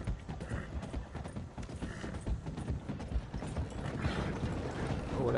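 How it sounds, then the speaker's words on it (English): Hooves of an armored horse with a shell on its back, clip-clopping steadily in a Wild West video game, with mechanical clanks and a faint whinny beneath a continuous busy game soundscape. "I think I got an armored horse with a shell on the back of it."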